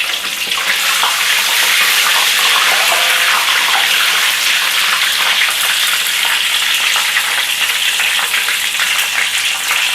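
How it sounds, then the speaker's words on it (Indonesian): Tomatoes fry in hot oil in a pan for sambal, a loud, continuous crackling sizzle that stays dense and even throughout with no voices. "Ini tomatonya tengah saya goreng."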